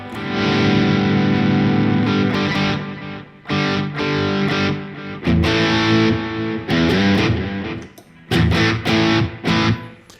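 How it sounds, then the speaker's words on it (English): Electric guitar through a regular distortion pedal, played in thick sustained chords and riffs with short gaps between phrases, loud and close, alone with no talk. "Here's my regular distortion pedal."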